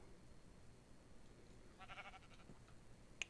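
A Minecraft sheep bleats once, a short quavering bleat heard faintly against quiet game ambience, followed by a small click.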